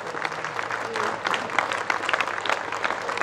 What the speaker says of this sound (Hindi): मैं सबसे प्रार्थना करूंगा कि उनके सम्मान में ताली बजाइए।